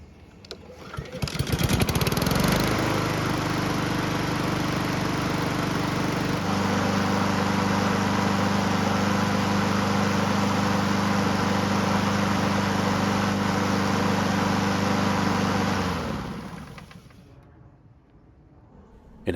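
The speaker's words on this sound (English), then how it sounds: "the engine started quite easily with a single pull" A Honda lawn mower engine fires on a single pull and settles into a steady, droning idle close by, running for about fifteen seconds before cutting off and fading out.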